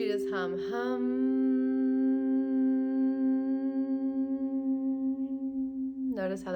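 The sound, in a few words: person humming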